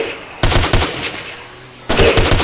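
Rapid bursts of automatic gunfire in the video game DayZ, two loud volleys separated by a quieter stretch of lingering in-game noise.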